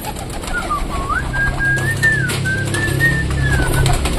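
Pet pigeons gather at feeding time, with a soft continuous cooing and a wavering, whistle-like call sustained over a low steady background rumble, close by and without talk.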